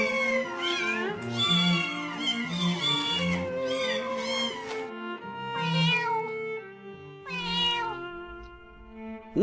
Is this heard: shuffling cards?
no